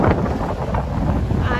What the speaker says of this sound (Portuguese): Tá ventando bastante hoje aqui.